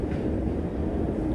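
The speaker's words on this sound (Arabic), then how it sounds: "أطول محطة مترو قابلتني الصراحة 2 كيلو متر" A metro train rumbles continuously and loudly through a deep underground station of the Moscow metro in Russia, with a steady low roar and no voices.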